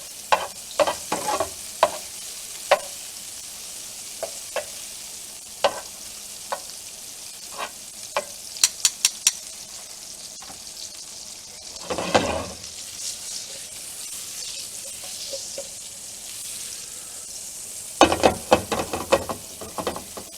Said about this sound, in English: All you want is melted butter.